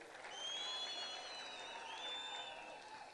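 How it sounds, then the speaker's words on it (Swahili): Audience applause at a Jubilee party rally for CS Matiang'i, a steady, fairly faint wash of clapping that stays even throughout, with whistles ringing over it and no talk. "mpigeni makofi"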